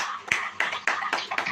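Congregation in a Hindi-language church service clapping together in a steady rhythm, about five sharp claps at even intervals, near and moderately loud, with no talk.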